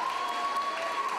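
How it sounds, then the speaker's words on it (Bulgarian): Brief, moderately quiet audience applause at a fashion show's closing credits, with scattered clapping and a steady tone running underneath. "Аплодисменти."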